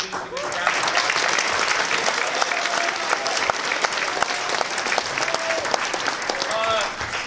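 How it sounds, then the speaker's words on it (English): A crowd applauds loudly and steadily at a middle school jazz band festival, dense clapping filling the room with cheers and voices mixed in throughout. "If you could please give him a round of applause."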